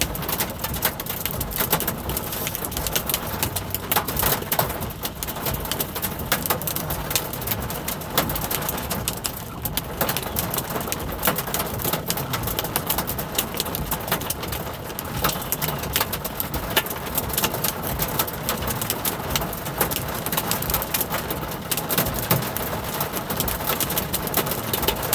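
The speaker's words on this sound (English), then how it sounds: "what could be more fun than to be sitting in traffic in a hailstorm?" Hail beating on a car stuck in traffic, a dense, steady clatter of hard pellets striking the body and windshield throughout, loud and unbroken with no talking.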